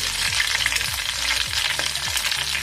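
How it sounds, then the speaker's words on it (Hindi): Whole dried red chillies tempered in hot butter in a pot, crackling and sizzling steadily and close, with a spoon stirring in a few repeated sweeps. "आप देख रहे हो कितना ही उमदा तड़का लग रहा है इसका"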